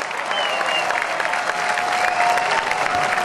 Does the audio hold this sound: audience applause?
yes